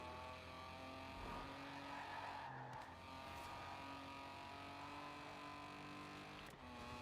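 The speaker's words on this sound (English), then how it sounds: "And we got to see some of them braking." Cars in a Microsoft Studios racing video game brake hard, with engine drone and sustained tire skids and squeals at a steady, moderate level, no talk over them.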